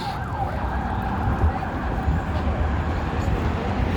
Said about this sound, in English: Now you hear more emergency vehicles.